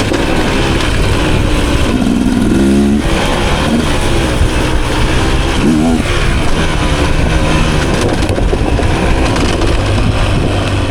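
A 2023 Beta Xtrainer dirt bike engine runs loud and close, its dense rasping drone rising and falling in revs throughout, with heavy wind buffeting over it.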